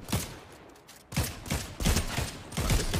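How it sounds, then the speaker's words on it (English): Gunfire in the Fortnite video game comes as bursts of rapid shots, sparse at first and then thick and continuous, loud and close with no talk over it. "Alright, I see some gunfire."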